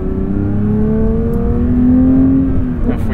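A 2022 Porsche 911 GT3 engine pulls steadily under light throttle, a loud, smooth rising drone with clear harmonics that holds for about three seconds, close to the microphone and with no talking.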